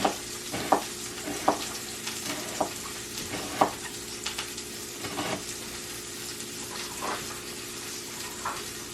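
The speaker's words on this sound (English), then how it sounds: "I'll kind of let my onions start cooking down first and season the oil up a little bit" Onions cook in oil in a pan, a constant soft sizzle punctuated by sharp scraping taps of a utensil every second or so.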